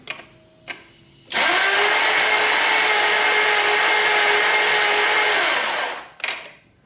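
A Jaguar S-type V8 with a failing cylinder cranks during a compression test, a loud, even starter whir lasting about five seconds with no firing, then a brief click after it stops.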